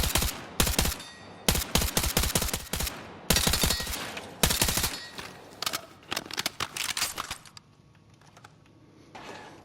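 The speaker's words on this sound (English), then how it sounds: "I would use it in burst fire" Burst-fire gunshots in the video game Battlefield 6, with sharp rapid volleys in short clusters separated by brief gaps, loud and close, tapering off toward the end.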